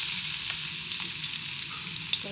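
Potatoes fry in a pan with a steady, close sizzle and crackle running the whole time, with a few brief stirring or scraping noises and no talking.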